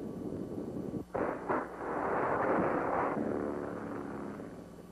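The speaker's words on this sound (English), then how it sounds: "First fighter is shot into the air." A World War II fighter plane is catapulted off a US Navy aircraft carrier in 1944: a sudden loud, broad blast swells into a roaring rush lasting about two seconds, then eases into a steadier, fainter rumble.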